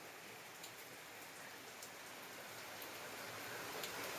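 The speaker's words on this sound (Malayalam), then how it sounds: "ഞങ്ങൾ വളപ്പിൽ പോയി വന്ന് കയറി മഴ ആരംഭിച്ചു" Steady rain falls over an outdoor garden compound, a dense, even hiss of drops on surfaces with a few brighter patters, continuous and unbroken with no voices.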